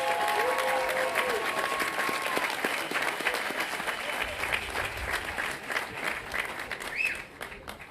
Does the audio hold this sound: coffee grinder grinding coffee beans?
no